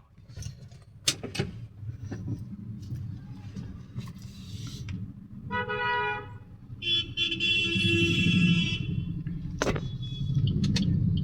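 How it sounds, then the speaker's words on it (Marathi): Busy evening rush-hour road traffic near a railway station, engines rumbling and several car horns honking, one long blast and shorter toots, fairly close, continuous. "लय ट्रॅफिक आहे इथं. लय गर्दी असते संध्याकाळच्या टायमात"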